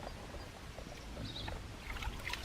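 Water trickles and dribbles out of a Tisas BR9 pistol, a faint, continuous wet gurgle heard close up with no talking.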